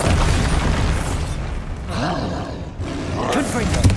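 In the Hogwarts Legacy game, a Bombarda spell detonates with a loud booming blast and rumbling roar, the explosive swell rising and falling over a few seconds amid battle noise and a voice calling out.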